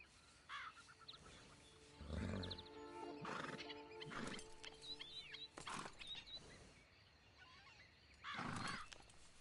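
A horse in Red Dead Redemption 2 neighs and snorts several times at close range over clopping hooves, with faint birdsong and ambient wildlife behind.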